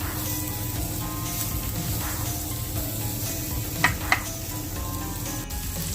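Mushrooms sauté on a hot PK grill with a steady, close sizzle and crackle, broken by a couple of sharp utensil clicks near the end and no talking.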